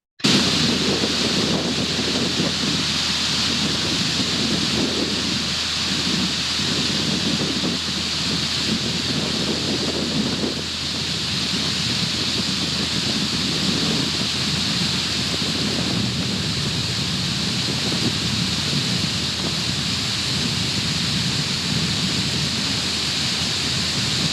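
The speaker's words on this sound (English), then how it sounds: "So this is part of the water coming off of the O'Shaughnessy Dam." Water pouring off the O'Shaughnessy Dam, a steady, loud broadband rush that holds constant throughout, roaring like heavy surf or a waterfall with some wind buffeting the microphone.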